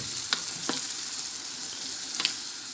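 Sizzling and bubbling as boiled hot water goes into an eggplant and minced meat stew in a pan, a steady hiss with a few sharp crackles and stirring clinks, close and alone.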